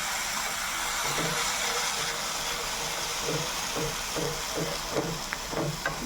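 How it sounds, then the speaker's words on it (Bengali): Milk and sugar syrup poured into a pan of bread halwa, giving a steady loud sizzle and hiss throughout, with soft rhythmic stirring scrapes repeating underneath. "এবার কিন্তু আমি এই পুরো শিরাটাই দিয়ে দিচ্ছি এর মধ্যে"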